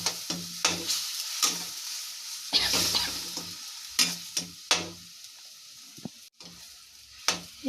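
Potatoes fry in a pan with ginger juice added, giving a steady sizzle broken by repeated scraping and clinking stirs at an uneven, lively rhythm, all close up with no voices.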